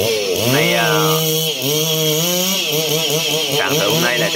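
A chainsaw runs close up, its engine revving up and down in pitch repeatedly as it cuts rubber trees.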